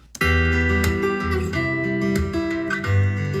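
An acoustic guitar recorded through its pickup, which is low on battery, plays continuously after a soft tap, its tone direct and somewhat flat, strummed chords ringing close and loud.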